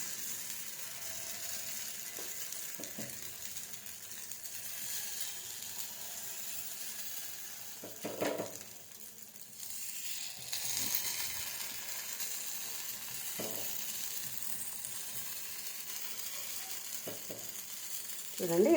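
Gunta ponganalu batter cooking in a pan on low flame, a faint steady sizzle with occasional soft clicks and scrapes of the pan and spoon.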